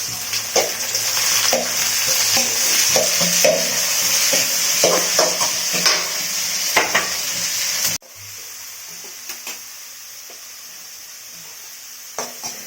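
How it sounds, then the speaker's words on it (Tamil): Tomatoes and onions sauté in a pan with a bright, steady sizzle and frequent scraping stirs, loud and close, then the sound drops abruptly to a quieter sizzle with occasional clinks. "தக்காளி நல்லா வதங்கிச்சு இப்போ அவரைக்காய் போட்டுக்கலாம்"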